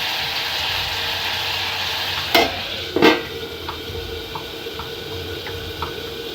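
Tomatoes cook and sizzle in a pan with a soft, continuous frying hiss, broken by two sharp utensil knocks against the pan and a few light clinks, no talking.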